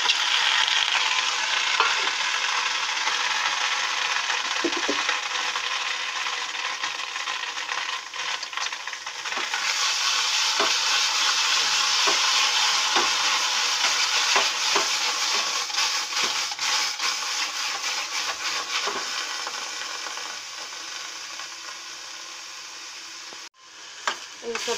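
Mixed vegetables with tomatoes sizzle loudly in a hot pan while a spoon stirs and scrapes now and then, a continuous close frying hiss with no voices.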